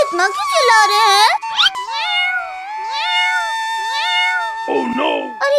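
Cartoon kittens that have just drunk milk meow in a string of loud, close, drawn-out cries with rising and falling pitch, overlapping one another and sounding like voiced imitations.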